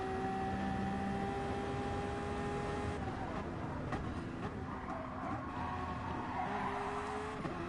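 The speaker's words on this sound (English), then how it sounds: "As we hear a bit of a turbo, I do believe, a bit of turbo." A Toyota LMP1 hybrid race car at Interlagos in a racing game gives off a steady engine roar with whining tonal layers and a faint turbo whistle, shifting pitch partway through under constant track noise.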